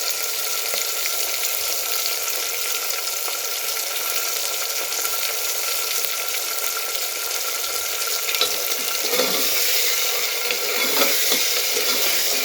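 Green peas and pigeon pea kernels sizzle steadily in a frying pan for a Kathiyawadi undhiyu, with scraping stirs and a few wetter clinks near the end, fairly loud and continuous with no talk.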